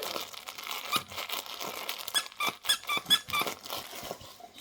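Squeaky dog toy shaped like a Fritos chip bag, squeaked repeatedly in quick uneven bursts up close, with crinkling and rustling between the squeaks and no talk.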